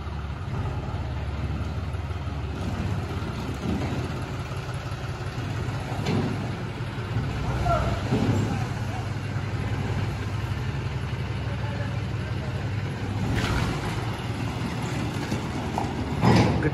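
A John Deere 5310 tractor approaches with a steady low engine drone that holds at a moderate level throughout, with no voices over it.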